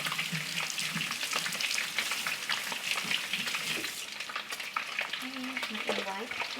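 Salmon cakes fry in oil in a pan over medium heat, giving a steady close crackling sizzle with scattered pops throughout, and a voice briefly speaks near the end.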